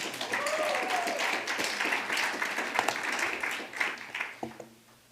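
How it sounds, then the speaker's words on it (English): A church congregation claps for the music director and the Namaste Band, steady dense applause with some cheering voices mixed in, thinning out near the end as a voice begins. "Give our wonderful music director, Ms. Deletta Gillespie, a round of applause, and our Namaste Band."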